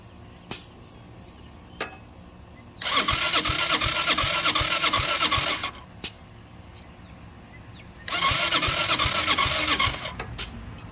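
A 2006 Zhejiang Kangdi 250cc kart engine turned over twice, each attempt a loud rapid chugging crank lasting about three seconds, with sharp clicks and a quiet pause between tries.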